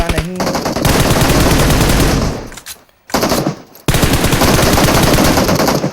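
Loud, sustained automatic gunfire in a battle royale video game match: rapid shots hammer on, drop off briefly near the middle, then resume at full force.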